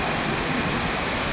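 Pulacan Falls in Zamboanga del Sur, a loud, unbroken waterfall roar filling the whole clip at close range, with no voices.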